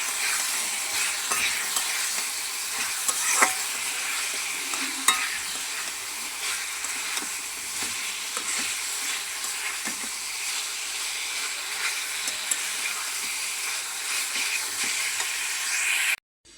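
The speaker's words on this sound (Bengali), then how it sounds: "মাছটা নামাইয়া আমি আলুটা ভাজিয়ে নিতেছি।" Potatoes fry in a pan with a steady, even sizzle and hiss throughout, broken by occasional scrapes of stirring, close and fairly loud with no talk.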